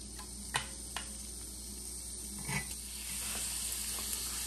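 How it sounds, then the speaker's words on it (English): Scallops sear in a hot pan, with a steady soft sizzle running throughout and a few sharp clicks and taps as they are placed and nudged, and the hiss swells slightly toward the end. "You want to sear them nice in each side."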